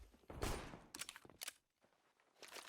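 Bursts of gunfire in a competitive Counter-Strike-style video game match, loud overlapping rapid shots in several clusters with short quieter gaps between them, no talk over them.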